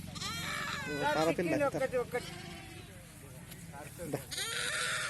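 Sheep bleat loudly and repeatedly while being caught for a PPR vaccination, strained cries close by over a steady background of people talking and handling the flock.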